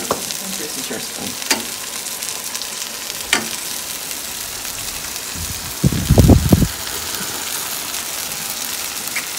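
Salmon and onions cooking village style in a pan, an even spattering sizzle like light rain, with a few spoon taps and a brief louder clatter near the middle.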